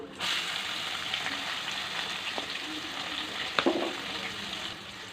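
Onion frying in hot oil with cumin, garlic, curry leaves and turmeric for a drumstick and egg tamarind curry, a steady close sizzle with a few brief stirring clatters.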